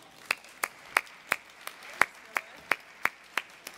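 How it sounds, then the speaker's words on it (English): Clapping for a couple invited up on stage, heard as a slow, steady run of about a dozen sharp, evenly spaced claps that sound more like a single pair of hands than a crowd. Nobody speaks. "Let's give them a round of applause."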